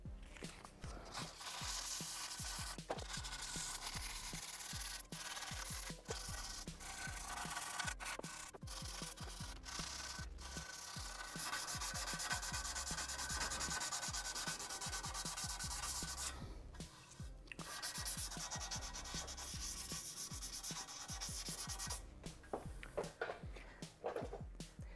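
A scratched exhaust on a crashed BMW G310R motorcycle is hand-sanded with sandpaper. Quiet, continuous back-and-forth rubbing strokes run steadily throughout, with no voices.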